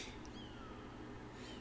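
Kittens meowing in the video game Sam & Max, a couple of faint high mewing calls over a steady low background hum, no voices.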